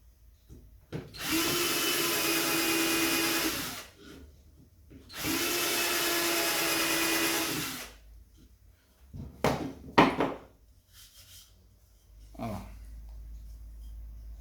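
A power tool cuts a recess into a marine plywood shelf offcut in two long, loud, even whining bursts of a few seconds each, close by, followed by shorter knocks and handling noises.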